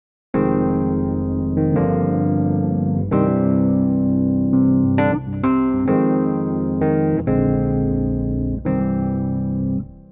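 An EZKeys virtual keyboard part with tremolo and distortion applied, playing sustained chords that change roughly every second or two, steady and loud throughout with no voices.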